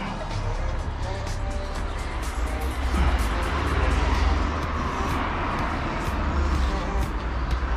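Several cars pass along a road outside a garage, their tyre and engine rumble swelling and fading one after another, loudest at the midpoint, under faint indistinct talk.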